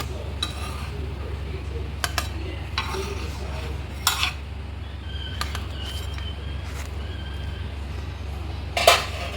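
Cooked sorghum appachulu lifted out of the pan onto a plate, with light scraping and clinking of a utensil against cookware, a few brief sharp taps over a steady low kitchen hum.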